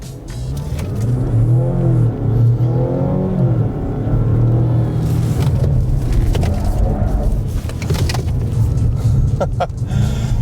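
A 2025 Mazda CX-60 SUV swerving through an emergency lane change produces a steady, loud engine drone with rising and falling revs, plus road rumble and rushing air noise heard from inside the cabin.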